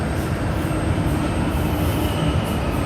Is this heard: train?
yes